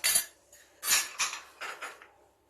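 Brownie batter for gluten-free brownies being mixed in a bowl, heard as several separate clinks and scrapes of a utensil against the bowl, close and crisp, with quiet gaps between them.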